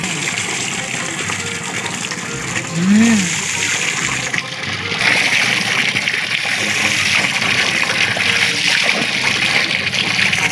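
Loud, continuous gushing rush of fast-moving water close by, with a brief whistle-like tone partway through and no speech.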